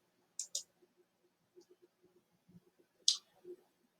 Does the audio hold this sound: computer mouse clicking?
yes